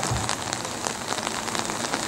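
Steady rain patters on surfaces at an outdoor ceremony for Romania's National Day in Simleu Silvaniei, a dense, even hiss of drops with no talk over it.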